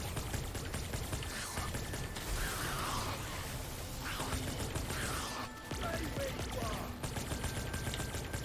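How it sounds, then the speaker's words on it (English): Gun reloading in a video game, with rapid mechanical clicks and ratcheting clatter over dense background game noise and distant gunfire. "I keep reloading my gun"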